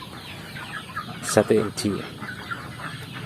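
Free-range village chickens in an intensive bamboo-slatted coop cluck in a short burst of close, rapid calls over a low background, while someone talks beneath them.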